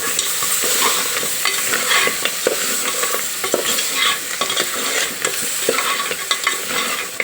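Cleaned, cut goat legs fry in hot oil with a steady close crackling sizzle, broken by frequent scraping stirs of a spoon against the pan throughout.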